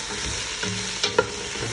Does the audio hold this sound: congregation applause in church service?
no